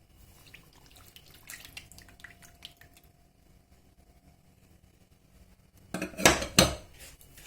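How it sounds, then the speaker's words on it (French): Semolina is mixed with butter in a bowl: soft, sparse scraping, then a louder burst of utensil clinks and clatter against the bowl near the end. "Et là, j'ai notre bol de beurre. Et je vais mélanger tout ça."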